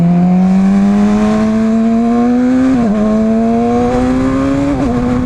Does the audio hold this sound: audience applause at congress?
no